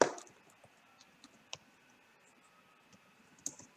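Keys tapped on a computer keyboard as a value is entered into a software field, with sparse, light clicks spread out over a quiet background and a louder burst at the start and near the end.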